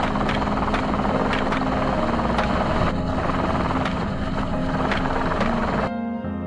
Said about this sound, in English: Helicopters continuously flew over heavily affected zones to monitor from above.